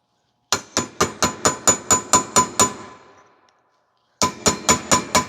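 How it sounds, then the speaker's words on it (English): A hammer strikes a chisel around a wheel hub cap in rapid, evenly spaced metallic blows. A run of about ten hits rings out, a brief ringing pause follows, then a second burst of strikes comes in close and loud. "we're going to chisel around this cap to pop it off"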